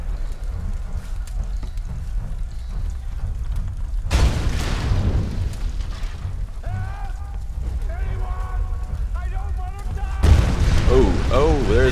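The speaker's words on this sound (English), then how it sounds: "There's explosions." Two loud, sudden explosive booms cut through a rumbling background in the video game Tomb Raider (2013), with a voice talking in between.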